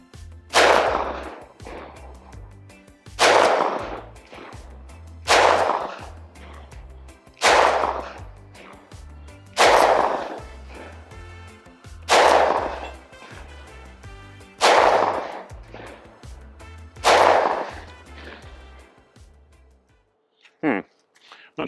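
.45 Super pistol rounds, including Remington 185-grain and SIG, Underwood 230- and 255-grain loads, fired outdoors on a cloudy day over a chronograph about ten feet downrange; eight loud, sharp shots spaced roughly every two to three seconds, each ringing briefly.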